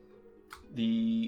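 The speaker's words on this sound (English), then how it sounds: "when I start opening the container, there's a sound" A short synthetic sound effect of a container opening in a space video game: a brief click followed by a sustained bright electronic tone lasting about half a second.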